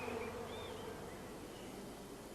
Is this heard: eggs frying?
no